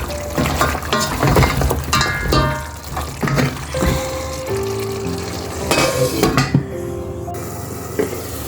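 Okra and shrimp frying in a covered pan while being stirred, giving a steady close sizzle with scraping and clinking of utensils and a few brief tonal clanks.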